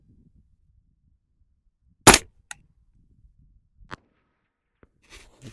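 A single sharp, loud rifle report from a .308 rifle with its barrel cut down to 12.4 inches, followed by a brief echo and a few faint clicks and knocks in otherwise quiet surroundings.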